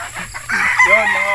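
Four-month-old Beatles White chickens cluck and call up close, a short burst of loud squawking that rises sharply halfway through.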